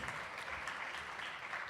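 Audience applause at a Black Caucus of Faculty and Staff awards ceremony, a steady, moderately quiet patter of many hands clapping with no break.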